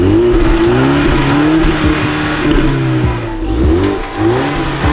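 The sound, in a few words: motorcycle engine revving, exhaust sound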